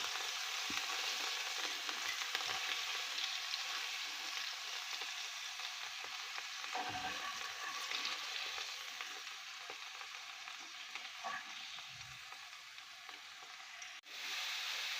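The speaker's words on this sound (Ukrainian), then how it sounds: "Я кинула цибульку нашу півкільця і моркву і буду готувати по соте" Steady, fairly quiet sizzling of sliced onion and carrot frying in a pan, with occasional scrapes of stirring.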